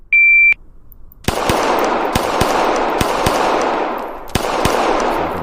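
Rapid gunfire in a VR shooting drill: a short electronic beep, then a run of sharp, loud shots in quick pairs and bursts over a dense, reverberant wash, close and unaccompanied by talk.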